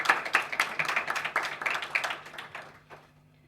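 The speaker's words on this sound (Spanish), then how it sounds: "podemos darle otro gran aplauso por esta excelente lectura y este gran cuento" A small audience at a university literature colloquium claps together after a reading, a dense patter of hands that gradually thins and fades out near the end.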